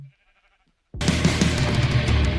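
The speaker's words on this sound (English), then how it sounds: "we spawned in near some sheep on day 1" Sheep bleating in a Minecraft hardcore world, a short quiet tone followed by near-silence, then a loud burst of layered game sound with repeated bleats over a busy background.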